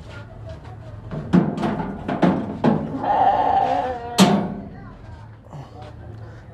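A small Teddy goat bleats several times at a livestock market, loud and near, with drawn-out calls among crowd noise and people talking.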